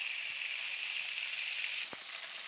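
Broiler chicken pieces frying in a kadai give a steady, close hiss of bubbling oil, with a brief knock of the pan near the end.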